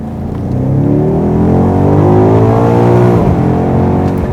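A BMW X5 M Competition SUV's over-600 hp engine revs up hard, its pitch climbing steadily as it accelerates, loud and close, then easing off near the end.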